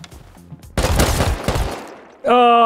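Rapid gunfire in the video game Rust, a loud burst of shots after a quiet moment, cutting off before a sharp tonal game sound.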